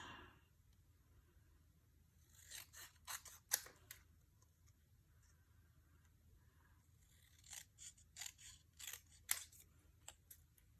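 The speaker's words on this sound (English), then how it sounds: "I'm going to just hand cut my greeting" Scissors snipping by hand through a paper greeting for a shaker card, two quiet bursts of short crisp cuts separated by a near-silent pause, close and alone with no talk.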